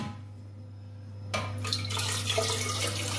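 Water starts rushing and splashing into a homemade reverse osmosis filter after a quiet first second, then runs as a steady close flow under a constant low hum.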